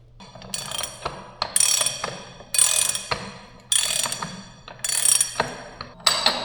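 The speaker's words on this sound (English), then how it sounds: "Crank it down a little bit with the ratchet first just to make sure the threads aren't crossed." A hand ratchet cranks down a bolt on a Caterpillar D4 dozer during a clutch rebuild, with loud repeated bursts of rapid pawl clicking and short pauses between strokes.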